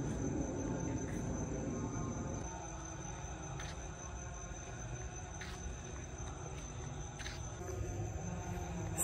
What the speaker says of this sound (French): on entend juste les grillons et les prières en fond